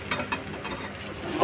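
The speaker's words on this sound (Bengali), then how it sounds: "এতগুলো মাছ আমার ভাজা বাকি।" Fish fry in a pan with a close, soft sizzle, broken by scraping stir noises and a brief rise in crackle at the end.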